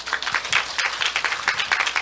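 Audience applause for poet Na Tae-ju at a library healing book concert in Seosan, a lively, fairly loud patter of many hands clapping with uneven rhythmic swells, no speech over it.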